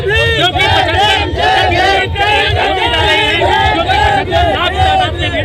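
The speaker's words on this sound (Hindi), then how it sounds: "75 लाख की भीड़ एकत्रित होती जा रही है" A large crowd gathered at a Sant Ravidas Jayanti celebration in Sitapur, producing a dense, loud, continuous roar of voices and shouting with chanted, pitched calls throughout.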